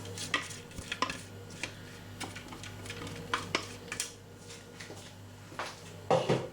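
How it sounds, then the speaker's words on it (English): Mushrooms and coriander going into a bowl of black beans, heard as soft scattered clinks and taps of a utensil against the bowl, fairly quiet with irregular spacing and a slightly louder clatter near the end. "now I'm going to add the mushrooms and the coriander to the black beans"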